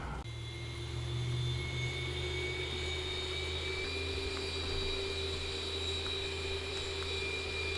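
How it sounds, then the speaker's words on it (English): Simulated Boeing 737-800 jet engines in the X-Plane 11/12 flight simulator with the Zibo mod spool up during engine start: a steady, loud, continuous whine and rumble with high-pitched tones that hold across the clip, no voices. "can hear those engines firing up now"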